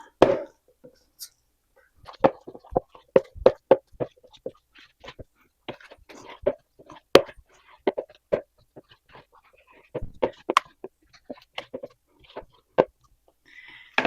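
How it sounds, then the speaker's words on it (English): Thick whole grain einkorn sourdough muffin batter is worked with a spoon, giving irregular close sticky thuds and squelches in bursts, separated by short quiet gaps. "this batter is really thick, so you just got to kind of work those in there really good"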